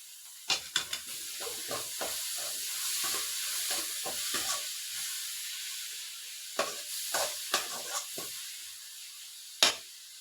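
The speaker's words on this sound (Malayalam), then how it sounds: "ബീട്രൂട്ട് ഇട്ട് കൊടുത്ത് നമുക്ക് ഇനി അതുകൊണ്ട് നന്നായിട്ട് ഇളക്കാം." Grated beetroot for Kerala thoran frying in a pan on a gas stove, a steady soft sizzle broken by repeated scraping strokes of a spoon stirring it, close and without talk.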